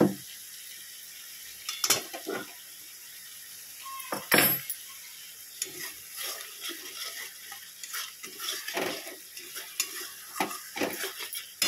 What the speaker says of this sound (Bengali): আর এখানে মশলাটা কষিয়ে নিই, দিয়ে সোয়াবিন আলুটা দিয়ে দেবো।